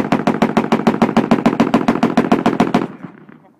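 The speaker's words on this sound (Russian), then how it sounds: "сейчас сможешь из автомата стрелять" An automatic rifle fires a rapid, even burst of about seventeen loud, close shots in under three seconds, followed by a brief fading echo.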